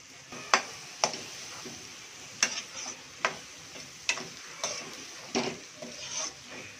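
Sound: stirring dry fish masala thokku in a pan

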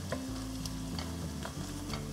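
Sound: onion and bay leaf sautéing in a pan

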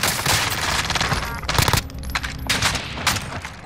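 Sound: gunfire in the video game Call of Duty Warzone

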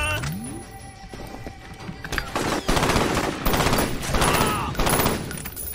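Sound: gunfire in the video game F.E.A.R. Perseus Mandate

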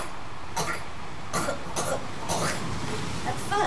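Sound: storyteller imitating a seagull coughing

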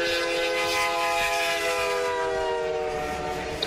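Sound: train passing sound effect in DaVinci Resolve

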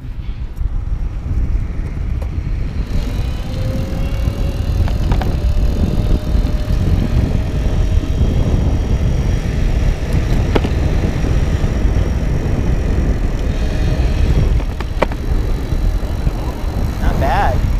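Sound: Go-Ped GoBike power rack friction drive motor running

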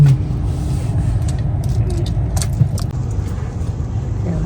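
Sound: car driving out of a parking lot

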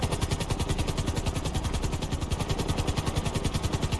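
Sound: helicopter flying in GTA 5 video game

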